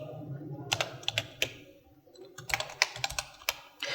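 Computer keyboard keys tapped in short irregular bursts while a name is entered in a word processor, the clicks close and crisp, over a low background hum.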